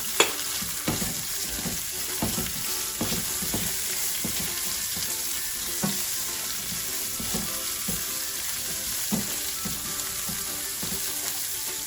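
Snow peas stir-fry in a hot pan with leftover fried rice, giving a steady sizzle broken by repeated scraping and tossing strokes, close and alone without talk.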